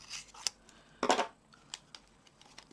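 Scissors cutting open a package, a few quiet snips and one longer rustling crunch of material being cut, with small taps and handling noises around them.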